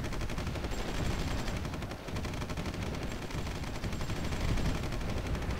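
Gunfire rattles through a battle in the strategy game Supreme Ruler Ultimate, a dense, continuous wash of shots and bursts with no clear gaps.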